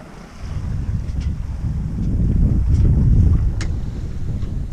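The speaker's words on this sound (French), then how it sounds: "Ça souffle moins fort qu'hier." Wind rushes steadily over a sailboat at sea on a downwind crossing back from the Balearics, a loud close roar buffeting the microphone and swelling midway, with water and rigging noise beneath.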